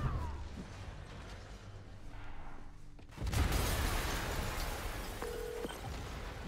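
Explosion in Marvel's Spider-Man Remastered: quiet creaking mechanical rumble gives way to a sudden loud blast at about three seconds, followed by a sustained crashing, debris-filled roar.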